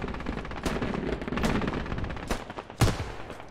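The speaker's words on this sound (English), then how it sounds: "Back blast. Watch back blast. I'm gonna fire another." Launcher fire in the Squad video game, a 100-player battle: several sharp broadband blasts and booming reports stand out over continuous gunfire and combat noise, with the loudest near burst late in the stretch.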